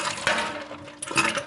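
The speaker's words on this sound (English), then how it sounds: "You just pour out the water" Water poured out of a chilled cup in a home kitchen, a brief splashing pour with a second louder gush near the end, close and fairly quiet.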